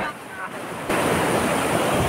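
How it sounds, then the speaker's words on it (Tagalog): Ocean surf roars up suddenly into a loud, broad rush of crashing water, with wind buffeting the microphone. "sobrang laki ng alon"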